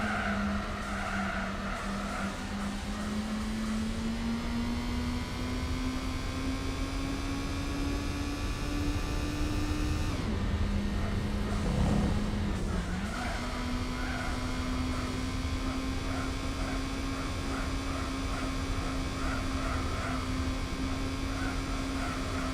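A weak-sounding car engine in the video game Gran Turismo 4 drones steadily and loud, its pitch slowly climbing through each gear, briefly dropping at a shift, then rising again, with tires squealing faintly.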